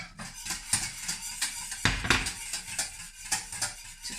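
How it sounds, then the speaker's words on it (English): A utensil scrapes and clinks against a pan as milk is swirled for homemade custard, with soft repeated strokes and a couple of louder metallic taps, close and quiet with no talking. "So I'm still swirling the milk,"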